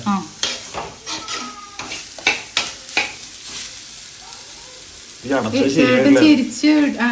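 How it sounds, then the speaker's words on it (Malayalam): Ginger sizzles and fries in hot coconut oil while a spoon stirs and scrapes against the pan in repeated strokes, the frying growing louder near the end as someone talks over it. "നല്ലോണം ഇഞ്ചി ഒന്ന് ഫ്രൈ ആക്കി എടുക്കട്ടെ."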